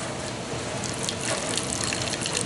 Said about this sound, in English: I'm going to pour it into a fine mesh strainer